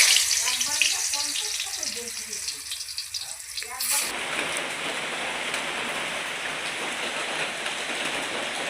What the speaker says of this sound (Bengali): তো চলো মাছটা এখন আমি ভেজে নিই।